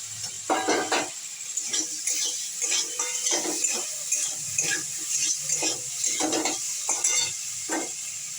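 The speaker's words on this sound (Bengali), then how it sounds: "মশলাটা আমার কষানো হয়ে গেছে আলুগুলো দিয়ে দিলাম" Potatoes go into a pan of fried spice masala for aloo dum and are stirred, giving repeated close scraping strokes against the pan over a soft sizzle. The rhythm is steady and there is no talking.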